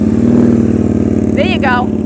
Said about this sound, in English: Throttle up. Rev it.